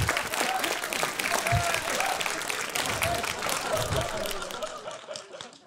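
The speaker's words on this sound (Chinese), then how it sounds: "他今天也在现场，给他个掌声好不好？" Applause from a stand-up comedy audience, a dense, steady wash of many hands clapping that fills the room and fades slightly toward the end, with a few scattered chuckles mixed in.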